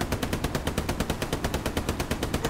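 Rapid automatic gunfire from the Hell Let Loose video game rattles out as a steady burst of evenly spaced shots that runs for about two and a half seconds with no talking.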